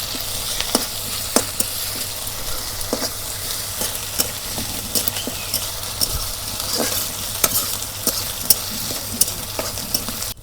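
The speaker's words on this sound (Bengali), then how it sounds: "সম্বারের মধ্যে 2টা তেজপাতা দিয়ে দিলাম।" Two bay leaves sizzling in hot oil while tempering for chicken biryani, a steady crackling fry with sharp pops and occasional stirring clicks, close up and with no voices.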